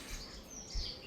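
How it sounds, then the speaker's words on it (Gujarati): Sparrows chirp outdoors near thorny babul trees beside a house, quick faint tweets scattered over a quiet background with no talking. "બહાર તો ચકલીનો અવાજ આવે એકલો"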